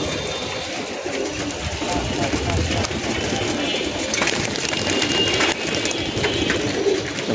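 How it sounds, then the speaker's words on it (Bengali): Pigeons coo softly as the flock lands back at their loft, a steady murmur of calls and fluttering under an even background noise. "কবুতরগুলো নেমে যাবে এখন, সব যার যার স্থানে চলে যাবে তাপ দিতে।"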